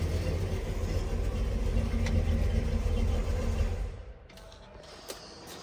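A 1966 Chevrolet Impala SS with stock manifolds and an automatic transmission idles with a low, steady rumble, then is switched off, the engine dying away to quiet with faint clicks and small sounds after.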